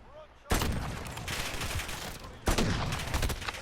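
Gunfire from the SPR bolt-action rifle in Call of Duty: Modern Warfare, two sharp, heavy blasts a couple of seconds apart, each followed by a long rumbling tail that fills the gaps.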